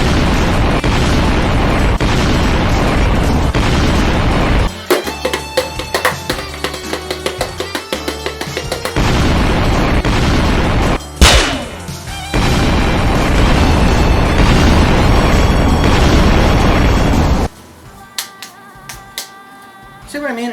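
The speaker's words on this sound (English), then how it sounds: "Just a constant barrage of explosions to a point where it becomes boring in spots." Depth charge explosions in the film Varan the Unbelievable go off as repeated booms and sharp bursts, loud and close, some isolated and some in rapid clusters, over a dense soundtrack with voices.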